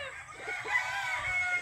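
A rooster crows nearby, a drawn-out harmonic call standing clear above faint low background noise, with no talk over it.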